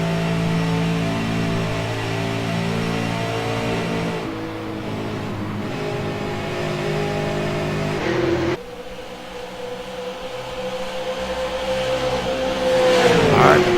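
Race cars on a track during a race, engines droning loudly and steadily, with pitch shifts as cars change gears and pass, one car rising in a sharp revving whine near the end.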